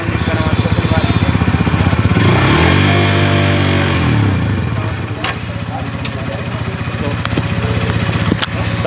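An older Hero Xtreme 160R motorcycle engine runs close and loud with a short rev that rises and settles back to a steady idle. Someone speaks over the engine.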